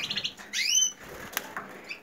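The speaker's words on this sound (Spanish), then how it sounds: "estos pájaros son pájaros que me sobran, mucho macho" Caged male birds give a sudden burst of close wing flapping, high sweeping chirps and a few sharp tweets, then scattered quieter rustles.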